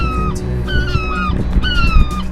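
Seagulls call loudly and close by at Botany Bay, a few repeated high descending cries over a background of outdoor rumble and noise.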